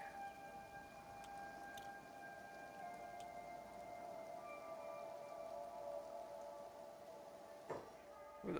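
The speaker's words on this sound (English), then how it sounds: "Plenty of rain and misery." Steady rain in the Floodlands of the video game Kenshi, a continuous wash of downpour with sustained tonal ambient drones layered over it and a brief sharper burst near the end.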